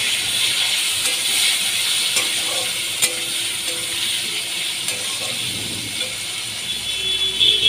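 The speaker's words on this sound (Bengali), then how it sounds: "কিছুক্ষণ টমেটোগুলো আমি ভেজে নিচ্ছি" Chopped tomatoes fry in hot oil spiced with garam masala, cloves, cardamom and nigella seeds while a Bengali fish curry is being made. The oil gives a steady, close hiss and sizzle, with a few soft scrapes and taps from stirring.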